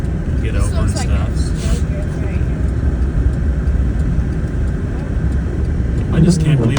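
A vehicle driving slowly through deep snow on an unplowed road during a blizzard, a steady low engine rumble and crunching road noise from inside the cab, with a person talking over it.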